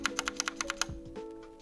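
Eight quick, crisp keystrokes on unlubed switches of a Drop Alt mechanical keyboard, evenly spaced and close up, followed by a brief low thump and quiet hum.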